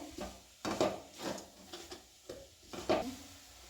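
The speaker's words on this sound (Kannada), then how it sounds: "ಕ್ಯಾರೆಟ್ ಹಾಕಬೇಕು, ತುಪ್ಪದಲ್ಲಿ ಚೆನ್ನಾಗಿ ಮಿಕ್ಸ್ ಮಾಡ್ತಾ ಇರಬೇಕು." Carrots being stirred in ghee in a pan, a quiet series of scraping strokes from a spoon against the pan over a faint sizzle, spaced irregularly.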